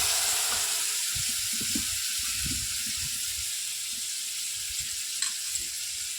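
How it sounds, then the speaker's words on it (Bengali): Five-spice paste sizzles in a pan with frying onions, a steady hiss running throughout with a few soft stirring knocks, close and moderately loud, with no voices. "পাঁচমেশালি মশলাটা দিয়ে দেওয়া হবে, গুলে পরে দিয়ে দেওয়া হলো।"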